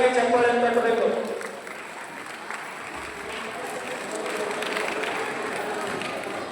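An audience claps at a Basava Dharma religious discourse. A voice is heard briefly at the start, then broad, sustained applause from the crowd continues at moderate loudness.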